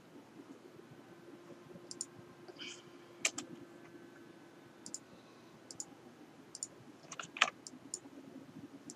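Computer keys and mouse buttons click in sparse, scattered taps over a faint steady hum, quiet and close, with no voices.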